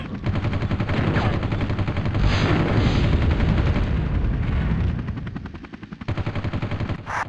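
Rapid machine-gun fire from a helicopter in the Army Men Air Attack 2 game, a loud sustained rattle of close bursts over engine drone, briefly easing before another clipped burst at the end.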